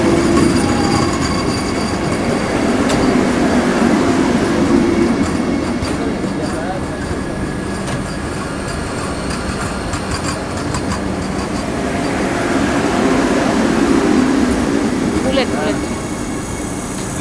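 Vande Bharat express train roars past at close range in a steady, loud rush of wheels and wind, with a voice speaking over it.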